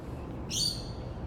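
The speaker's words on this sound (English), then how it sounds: "Oh, to hear the wildlife here. That's the rosellas." A single brief, high call of rosellas in Australia rings out over low background rumble, fairly faint and distant.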